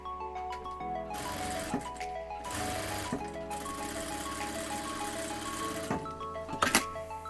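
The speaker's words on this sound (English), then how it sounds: "I'm going to sew down either side so that this seam lies perfectly flat" A sewing machine runs close and steady, stitching down both sides of a seam on a deep fabric headband, with a continuous whir broken by brief pauses and a few clicks near the end.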